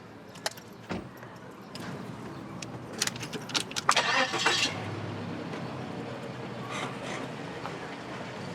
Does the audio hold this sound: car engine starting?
yes